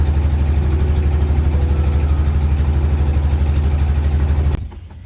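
A boat engine idles at dawn with a steady, throbbing low rumble, close and loud, before cutting out abruptly near the end and leaving faint background noise.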